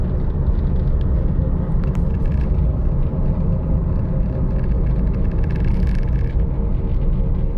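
A car with a worn wheel bearing drives along, giving a loud, steady low rumble and drone that continues without a break, with no voices.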